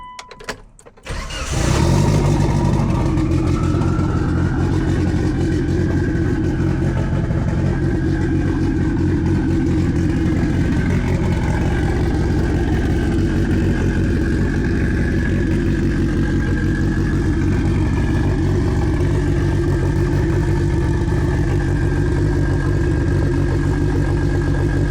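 A Mitsubishi Evo 9 engine cranks briefly and catches, then settles into a loud, steady idle with a gentle rise in revs, running close by for over twenty seconds with no one speaking.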